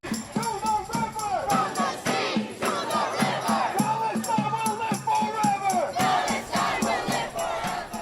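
A crowd of pro-Palestine demonstrators outside the White House demanding a ceasefire in Gaza, loud rhythmic group chanting with repeated shouted phrases, close and dense throughout.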